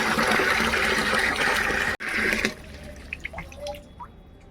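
Water pours and splashes loudly for a couple of seconds in a home kitchen, then tapers to scattered drips and small trickles.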